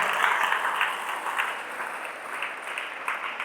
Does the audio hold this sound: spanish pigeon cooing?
no